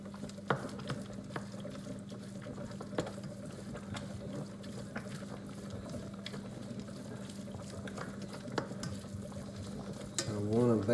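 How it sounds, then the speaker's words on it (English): A spoon stirs and breaks up ground beef in a pan for lasagna, making soft, faint scraping and light taps over a low cooking murmur, with a louder scrape near the end. "I'm going to take this spoon and mix up my ground beef"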